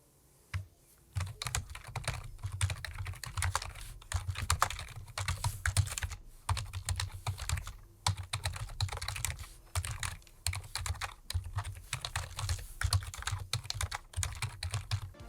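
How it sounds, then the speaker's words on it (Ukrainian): Rapid clacking of a computer keyboard being typed on up close, irregular bursts of keystrokes with short pauses, no voices. "проблема клавіатури, яка звучить ось таким чином"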